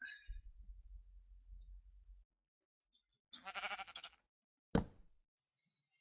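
Sheep in a Minecraft-style video game: a short low clicking patter, then a loud close bleat followed by a sharp second bleat and faint small blips, alone with no talk.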